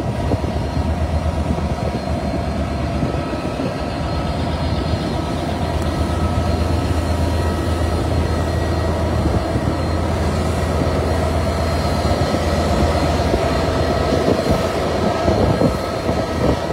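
A container freight train rumbles past at Tilbury, a loud continuous roar with a steady low hum and rattling wagons throughout, without any talk.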